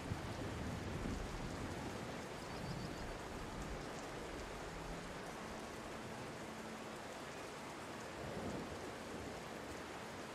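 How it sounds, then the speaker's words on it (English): Steady rain falls in the video game Tower of Fantasy, a continuous hiss with a low rumble of thunder midway, moderately loud and without talk. "It's raining."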